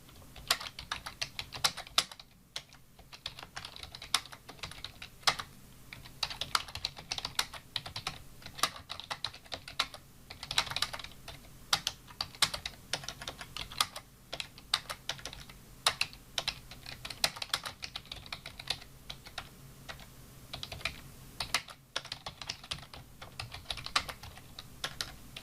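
Steady, close typing on a computer keyboard while writing an email, with quick irregular clicks and brief pauses running on for nearly half a minute.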